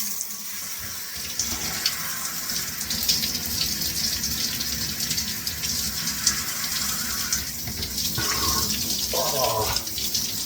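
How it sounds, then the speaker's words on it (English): Steady hiss of a cold shower's running water pouring continuously, close and fairly loud, with slight shifts in the spray partway through and faint voices mixed in. "I'm gonna take a cold shower"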